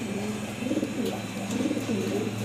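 Male pigeon cooing repeatedly in low, throaty rolling phrases, close and steady, with a faint constant hum underneath.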